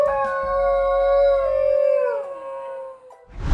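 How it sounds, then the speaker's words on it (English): A dingo lets out a long, clear, mournful howl that holds steady and then slowly falls in pitch, heard alone and fairly close. "Dingoes are known for their distinctive howl, which differs from the barking of most dog breeds."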